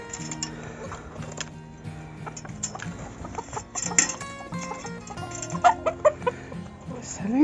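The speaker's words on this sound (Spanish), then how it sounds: "Salen las gallinitas." Hens cluck on and off at close range, mixed with small ticks and rustles of activity around them.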